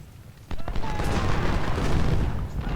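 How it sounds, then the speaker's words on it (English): Artillery shells and musket fire in the Civil War strategy game Ultimate General: Civil War, Brock Road battle: a sudden loud blast followed by continuous dense rumbling gunfire and booms, with a faint whistle. "Our skirmishers are taking artillery fire"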